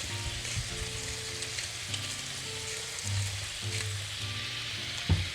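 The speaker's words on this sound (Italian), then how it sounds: "Abbasso leggermente la fiamma e lascio cuocere il tempo necessario." Tomato sauce for calamarata pasta sizzles and bubbles steadily in a pan on a lowered flame, a constant close frying hiss with small pops and a sharper crackle near the end, no voices.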